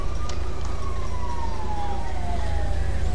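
An ambulance siren in the video game GTA V wails with a slowly falling tone over a steady, loud road and engine rumble throughout.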